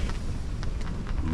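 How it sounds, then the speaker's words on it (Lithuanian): Strong wind blows at a riverside catfish-fishing spot as a constant rough roar across the microphone, broken by short gusty bursts, with no voices. "Labai stiprus vėjas dar ir dabar"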